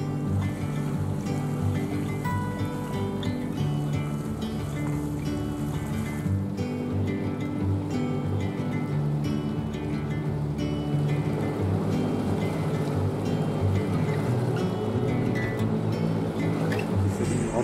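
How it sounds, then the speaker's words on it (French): A sailboat under engine on a calm sea in Vigo bay, a steady low engine drone mixed with water rushing along the hull, continuous and fairly loud with no voices. "Direction Lagoa, au moteur, sur une mer apaisée, en suivant les canaux balisés de la baie."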